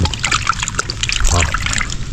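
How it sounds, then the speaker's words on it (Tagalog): Water is poured over lokan clams to wash them, a close, continuous trickle and splatter with some background voice mixed in. "Lagyan natin tubig para mahugas nila."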